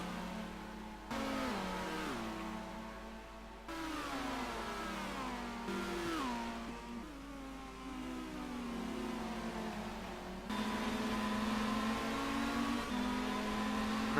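Racing car engines in a BTCC sim racing game rev and shift repeatedly, rising pitches climbing then dropping between gear changes, a continuous mid-loud drone that swells louder near the end with no talk.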